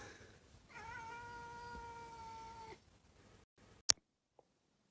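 A single drawn-out cat meow lasting a couple of seconds, fairly close, followed by quiet and a sharp knock.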